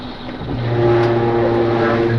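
A police car's engine hums steadily as it moves past another vehicle, with a low, even drone that swells slightly as it gets going and no one speaking.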